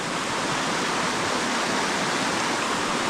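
Mountain creek in the San Bernardino Mountains, a steady, dense rushing of flowing water heard close and alone with no voices.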